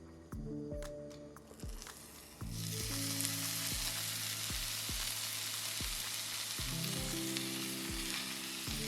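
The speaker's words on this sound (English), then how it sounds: "To sear, place a pan over medium-high heat and press your pork belly into the pan for maximum coverage" Pork belly sears in a hot pan over medium-high heat, a loud, steady sizzle that suddenly swells partway through and holds, with a soft repeating thump of background music underneath.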